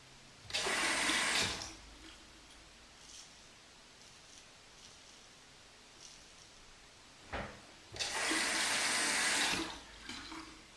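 Water runs from a tap in two loud bursts of rinsing during a straight razor shave with a Parker push-type shavette, with a quiet pause and faint handling sounds between them.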